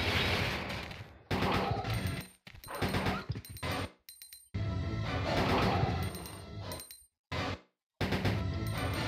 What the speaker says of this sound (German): Drei Schüsse verballert, ey.